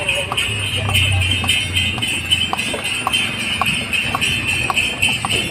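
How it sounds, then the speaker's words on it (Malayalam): A horse pulls a cart through the pilgrimage town of Palani, its hooves clip-clopping in a steady, close rhythm over a continuous rolling rumble and high street noise. "ഞങ്ങളിങ്ങനെ കുതിരവണ്ടിയിൽ ഇങ്ങനെ പൊയ്ക്കൊണ്ടിരിക്കുകയാണ്"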